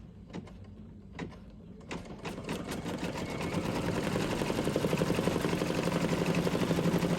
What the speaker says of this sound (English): you're going to let your machine go again, and it's going to tack those down